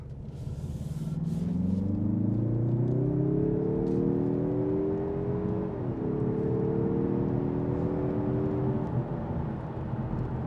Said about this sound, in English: if you really push on the gas, it definitely wakes up super fast and knows that you're looking for power, and it will deliver that power